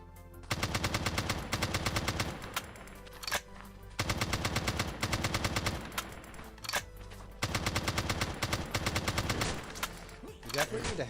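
Rapid automatic gunfire from shooting enemies in a vibe-coded first-person video game, loud bursts of machine-gun fire repeating in three long strings separated by short pauses and single shots.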